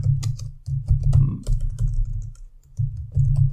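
Rapid keystrokes clatter on a computer keyboard, close and steady with short pauses between bursts, with no talking.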